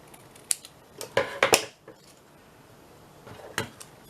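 Scissors snipping paper while making mini paperclip pockets: a few quick close cuts clustered together, then one more snip after a pause, crisp against a quiet background.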